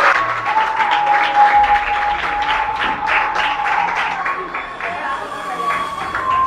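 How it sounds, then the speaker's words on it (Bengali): An audience claps loudly and continuously at a Bengal Force Academy ceremony honouring SSC-GD exam candidates, dense steady applause filling the whole stretch with a faint tone and crowd murmur beneath. "জোরদার হাততালি।"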